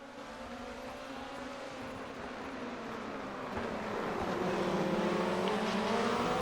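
Rallycross race cars launching at the start of a heat at Charlotte Motor Speedway, engines droning together and climbing in pitch as they rev and accelerate away, growing steadily louder.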